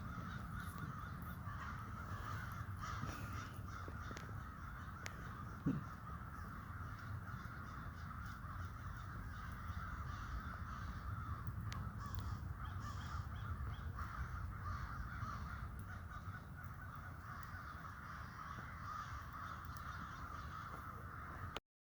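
Crows caw faintly in the distance over a steady outdoor background hiss for a long stretch, with scattered calls and no voices.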